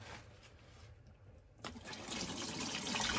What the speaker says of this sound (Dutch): Je hoort water aan de achtergrond omdat ik het aan het uitgieten ben